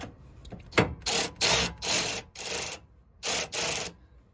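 A ratchet wrench works a nut and washer down onto a Sumospring bump stop atop a Sprinter van's front suspension, heard as several loud, close bursts of clicking with short pauses between them and no talking.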